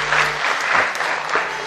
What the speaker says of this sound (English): Could we have a huge round of applause